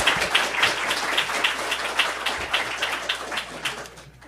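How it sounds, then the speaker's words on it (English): Steady audience applause for guests at a public forum, many hands clapping together at close range, gradually thinning and fading out near the end. "Let's give a round of applause to our guests."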